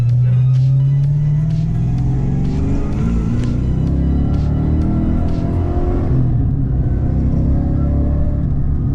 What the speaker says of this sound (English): You can hear it at full throttle. That's when the exhaust really wakes up.